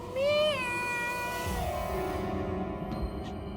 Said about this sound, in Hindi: घर में बिल्ली आ गई है।